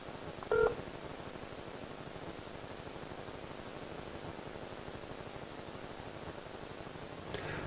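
On a call to Vodafone customer service, a single short telephone keypad beep sounds near the start, then a faint hiss of line noise continues, with another brief tone near the end.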